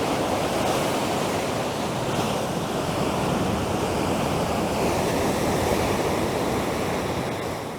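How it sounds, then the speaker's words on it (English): Ocean waves crash and roar continuously on the rocky coast below a Madeira clifftop, a dense, steady surf wash mixed with wind buffeting the microphone. "I'm loving those waves down there."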